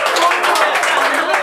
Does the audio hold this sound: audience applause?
yes